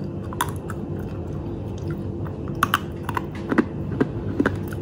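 Crisp cheese stick snack, a homemade Lebaran treat, being bitten and chewed up close, giving a series of soft, quiet crunches scattered over about five seconds with no talking.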